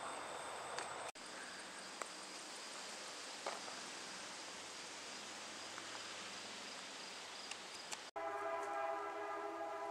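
A distant train rumbles steadily at night near a campground, with tonal horn-like notes rising near the end and no talk.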